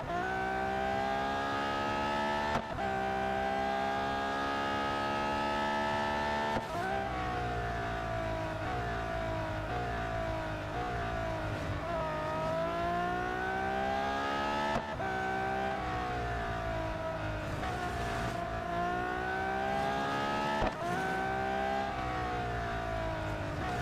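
A race car engine in Real Racing 3 drones loud and continuous, its pitch sweeping up and down through gear changes and corners, with sharp shift breaks every few seconds.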